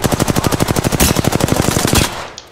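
Rapid automatic gunfire from Apex Legends, a loud sustained burst of evenly spaced shots lasting about two seconds before cutting off, with faint trailing effects after.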